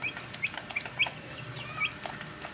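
Chirping from 21-day-old colored chicks, several short high cheeps scattered irregularly at close range over a low, steady background.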